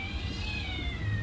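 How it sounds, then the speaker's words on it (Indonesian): Cats in a neighboring space fight, giving drawn-out, wavering meows and caterwauls that sound loud and close, carrying on continuously without pause. "mohon maaf kalau ada semacam kucing-kucingan bertarung"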